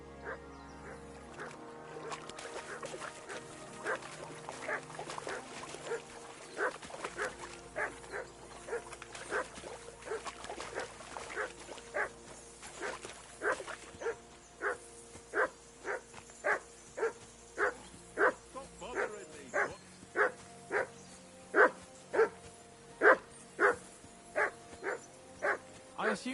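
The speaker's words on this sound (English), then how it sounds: "I assume you can hear that damn dog of yours barking." A dog barks over and over in the medieval role-playing game Kingdom Come: Deliverance 2. The barks are evenly spaced and grow louder and sharper toward the end, over a steady musical backdrop.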